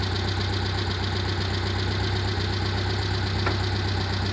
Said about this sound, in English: Off for a ride in the Volkswagen.